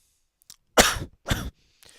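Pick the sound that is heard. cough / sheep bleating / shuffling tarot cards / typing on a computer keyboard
cough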